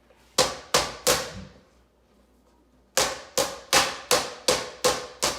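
Chicken breast pounded flat with the flat side of a meat mallet: three sharp thuds, a short pause, then seven more in a steady rhythm, loud and close.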